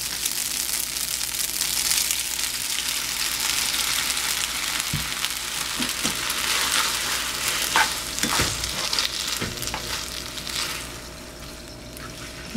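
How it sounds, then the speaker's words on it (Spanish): Spaghetti stirred through melted butter in a pan, with sauce being added. A steady bright sizzle and frying hiss runs throughout, and a few soft utensil scrapes and clinks come near the end as the sizzle eases. "Revolver nada más para que se impregne de la mantequilla y le voy a agregar la salsa"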